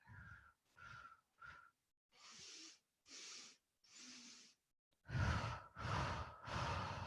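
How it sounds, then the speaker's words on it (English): Forced exhalations in a yoga breathing exercise: three short sharp breaths, a pause, then three longer forceful breaths, then three loud bursts close to the mic, with no talking. "3 small sips of air. 3 forced exhalations."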